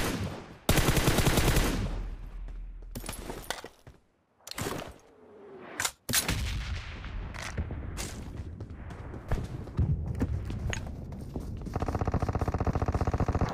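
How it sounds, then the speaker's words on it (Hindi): Gunfire in the PUBG Mobile battle-royale game, loud bursts of automatic weapon fire and single shots scattered over the clip, with brief quiet gaps and a steady rumble of game ambience near the end. "यहाँ पर मुझे एक बोट की फायर सुनने में आ जाता है"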